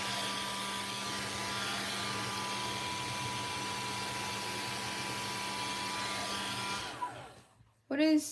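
A hair dryer blows steadily with a constant whooshing hum, then cuts off near the end, followed by a brief sound.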